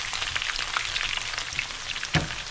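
Eggplant for pasta alla Norma fries in a pan, giving a steady, close crackling sizzle with a scattering of sharper pops and no voices.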